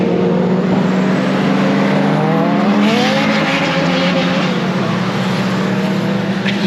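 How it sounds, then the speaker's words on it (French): A Honda Civic drives on a track at a car festival, its engine droning loudly and continuously with a rising and falling tone and a high thin whistle running over the roar. "La Civic qui siffle."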